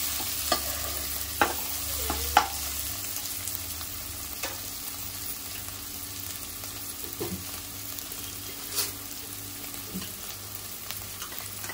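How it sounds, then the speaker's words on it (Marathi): Onion and tomato masala sizzles softly and steadily in a pan, a constant gentle frying hiss broken by a few light knocks and scrapes of stirring. "आता आपला कांदा टोमॅटो वगैरे छान शिजलेला आहे बघा"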